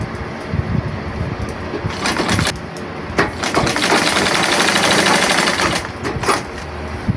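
A sewing machine stitching along a seam of long pants with a back garter, a close, loud motorized whirr running in bursts with brief stops and restarts, no talking.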